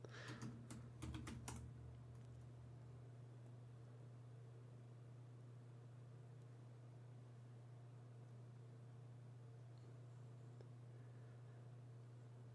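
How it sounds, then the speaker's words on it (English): A short burst of keystrokes on a computer keyboard as a reboot command is typed into a limited shell. The clicks are quick and faint, then give way to a low steady electrical hum for the rest. "I want to see what happens if I type in the reboot command inside of this very limited shell"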